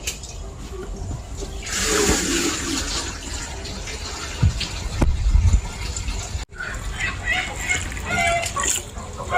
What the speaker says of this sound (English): Now we have to add the water inside.